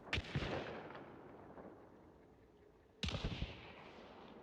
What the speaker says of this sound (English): It's almost like shooting fireworks from your shotgun.